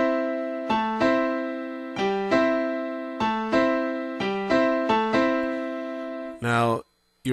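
Piano playing merengue-style root-note chords in a steady, bouncy pattern, about ten crisp repeated chord stabs alternating between two chords, close and clear, then ending in a brief burst of noise.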